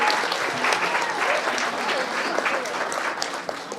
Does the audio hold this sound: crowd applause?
yes